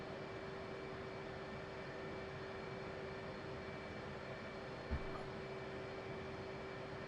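An F/A-18 Hornet jet engine in the DCS flight simulator drones with a steady, even hum and a faint whine, with one brief soft click partway through and no talking.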